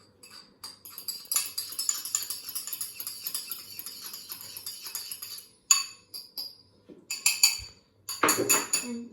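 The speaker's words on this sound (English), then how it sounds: "Then you stir the egg." Fork rapidly clinking against a bowl while an egg is stirred for scrambled eggs, quick bright metallic ticks in close, continuous bursts with short pauses.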